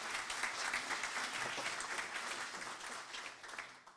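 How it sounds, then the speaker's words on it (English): A crowd applauding at a leadership contest debate in Charlottetown, steady dense clapping that holds for several seconds and thins slightly toward the end. "And great applause."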